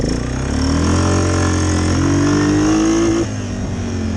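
Truck engine in low range revving hard against its rev limiter, a loud sustained roar with pitch climbing steadily before dropping off near the end.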